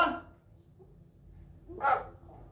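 A single dog bark or yip near the end, following a brief burst at the start, over low background hum.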